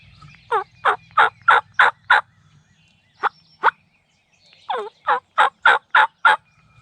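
A wild turkey gobbles repeatedly in bursts of rapid, rattling notes, fairly close and loud, with short silent gaps between the series.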